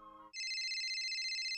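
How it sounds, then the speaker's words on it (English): A mobile phone ringtone starts after a soft lead-in, a loud, close, bright electronic tone pulsing steadily in a rapid trill without a break, with no voices over it. "Wait a second, my phone's ringing."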